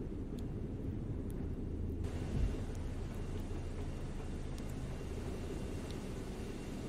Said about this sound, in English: So let's let this plane get in.